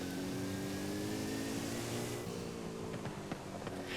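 A 2018 Porsche 718 Cayman GTS in Forza Horizon 5 on a volcano road gives a steady engine drone with layered harmonic tones, holding at an even level throughout with no voices.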